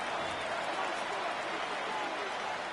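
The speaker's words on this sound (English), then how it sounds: "This crowd doing everything they can before third and goal" A football stadium crowd roars before a third-and-goal play, a dense and constant wall of cheering and noise that holds at the same level throughout without a break.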